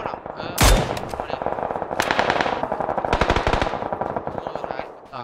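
Automatic gunfire from the video game PUBG rattles in rapid bursts, opening with one loud close shot and then sustained fast firing with brief pauses.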